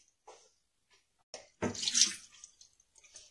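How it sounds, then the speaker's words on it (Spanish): About half a cup of water poured into a container for dissolving cornstarch while making atole, a short splashing pour in the middle between quiet handling noises. "Voy a agregar como media taza de agua."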